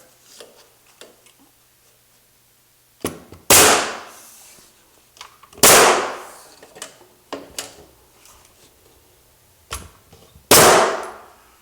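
A nail gun fires while fixing interior slate cladding with a modified hook, giving sharp, loud, widely spaced bangs with small ticks and clicks between them, with no talking.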